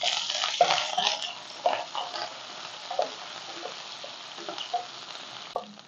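Small onions and curry leaves fry in a pan with a bright hissing sizzle that starts strong and gradually eases, heard up close with a few stirring clinks.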